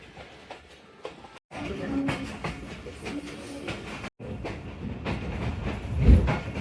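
A Narowal passenger train in Pakistan rumbles along the tracks with rhythmic clatter and hiss from inside the carriage, steady and fairly close, with a few brief dropouts.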